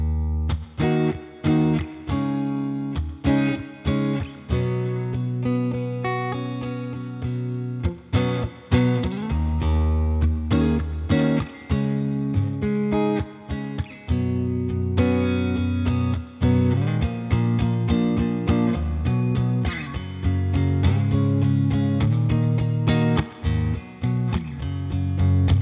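A distorted electric guitar playing a continuous riff through a NUX Solid Studio Mk II Deluxe Reverb amp model, miked with an SM57, loud and close, with chords and single notes ringing out.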